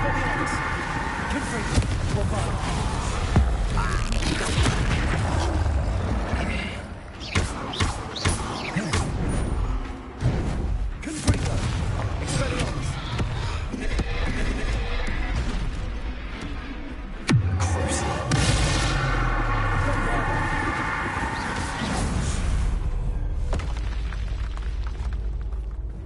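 Spell explosions in the video game Hogwarts Legacy: loud, heavy booms and bursts hit one after another over a dense, roaring backdrop, with a voice calling out during the action.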